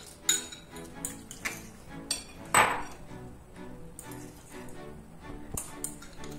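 A knife taps and clacks on a cutting board while chopping guacamole ingredients like onion and cilantro, with scattered sharp hits at uneven intervals and one louder scrape near the middle, close and fairly quiet.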